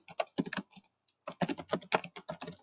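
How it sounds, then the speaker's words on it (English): Rapid typing on a computer keyboard in bursts of close, crisp keystrokes, with a brief pause near the middle before the clatter resumes. "Let me see if I can just type it in."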